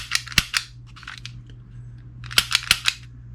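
Dry-fire trigger clicks on a Taurus G2C pistol, snapping like a cap gun: sharp close clicks in two quick bursts of three or four, separated by a quiet pause.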